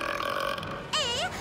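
A single loud burp rings out near the end, brief and close, rising over low murmuring background noise.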